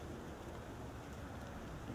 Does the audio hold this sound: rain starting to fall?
yes